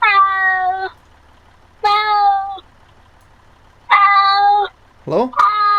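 Cat in the video game ARMA 3 gives several long, loud meows in a row, separated by near-silent gaps, with one shorter rising yowl near the end.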